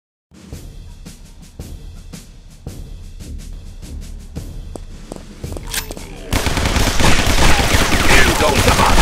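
Gunfire in the Guns, Gore & Cannoli video game: repeated sharp shots in an uneven rhythm that build into a loud, dense burst of rapid machine-gun fire at close range.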